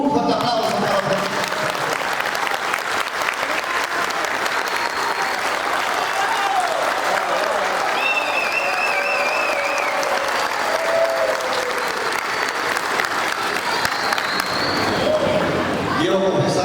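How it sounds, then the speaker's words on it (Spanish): Long, loud ovation for Francisco Sagasti at a public speech in Peru: dense, continuous clapping from a large crowd, with voices and whistles mixed in, fading slightly at the very end. "Un fuerte aplauso para Francisco."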